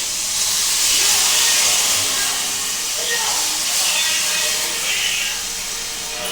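Tamarind water poured into a hot pan for fish curry makes a loud, steady sizzling hiss that lasts throughout with little change.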